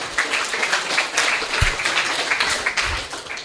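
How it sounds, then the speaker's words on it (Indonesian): Lively audience applause at a community event in Banyuwangi, a sustained patter of many hands clapping with a few louder thumps, heard alone at moderate volume. "Tepuk tangan yang meriah ya"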